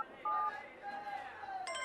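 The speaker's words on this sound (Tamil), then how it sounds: "மச்சான் ஃபோன் அடிக்குது." A phone rings with electronic tones in a Tamil movie scene, a sustained ringtone note followed by a brighter burst of tones, with voices and chatter around it.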